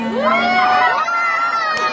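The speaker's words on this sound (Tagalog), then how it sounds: "Pwede po bang hiyawan siya?" A packed audience at the Miss Gay 2022 pageant in Angeles City, Pampanga cheers loudly, with high shouts and whoops rising and falling together in a continuous roar.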